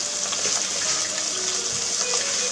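Chicken sears and browns in a pan with a loud, steady close sizzle and hiss, dense and continuous with small pops, no talking.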